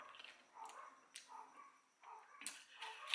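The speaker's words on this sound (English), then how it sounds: "the dog across the road, when it starts barking, it starts barking." A dog barks from across the road on a Samoan island, giving several short, fairly faint barks at irregular intervals from a distance.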